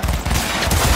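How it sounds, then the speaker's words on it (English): An automatic pistol in Cyberpunk 2077 fires a brief, dense stretch of gunfire, loud and close, with the rapid shots blurring into one continuous crackling rattle. "oh, it's an auto pistol"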